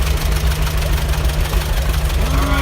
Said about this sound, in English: Here's a John Deere A.